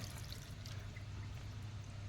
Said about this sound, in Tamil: பார்த்திங்களா எப்படி இழுத்து கொடுக்குதுன்னு. இழுத்து கூட தண்ணி வெளியே வருது.